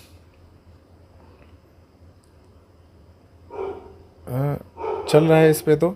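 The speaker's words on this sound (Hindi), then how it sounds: "तो यहाँ पे गली में कुत्ते भी ज़्यादा भौंक रहे हैं तो उनकी भी आवाज़ आ रही होगी आपको।" Street dogs bark several times in quick succession, loud and fairly close, while someone talks over the barking.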